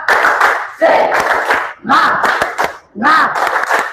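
A school class performs a rhythmic spirit clap cheer, four loud bursts of clapping in patterned beats with the children chanting together over them, close and energetic.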